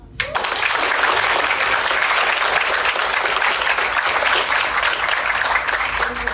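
A crowd bursts into loud, sustained applause, dense and steady clapping filling the room for several seconds without letting up.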